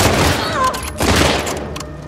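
Rapid bursts of gunfire in The Last of Us Part II crackle loudly for about two seconds, a dense volley of game-style shots with no talking.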